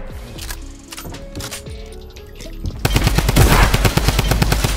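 Rapid automatic gunfire in a Fortnite battle, a sparse burst early on giving way after about three seconds to a loud, dense volley of shots that runs continuously to the end.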